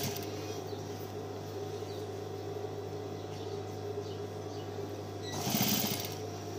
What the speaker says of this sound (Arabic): هنا بزقها شويه بساعد المكنه لان الجزئيه هنا القماش تقيل